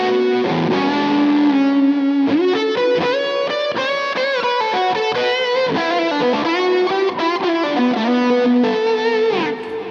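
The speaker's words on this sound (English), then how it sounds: "This is the fuzz tone. This is on the bridge pickup. I'm actually layering a fuzz face pedal with a tube screamer" A Les Paul's P90 bridge pickup drives a Fuzz Face layered with a Tube Screamer plus a little reverb, giving thick, saturated fuzz chords and sustained notes played loud and continuously without any voice.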